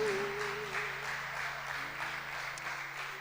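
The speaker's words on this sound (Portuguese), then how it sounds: "Aplaude a Jesus, aplaude." Congregation applause during a church worship service, a soft continuous patter of clapping under sustained music and voices, fairly faint and distant.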